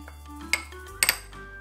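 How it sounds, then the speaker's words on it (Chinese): Metal utensils clink against a bowl while salad dressing seasoned with pepper is stirred in a kitchen; a few sharp, quiet clinks stand out over a low background hum, with no talking. "搅拌一下。"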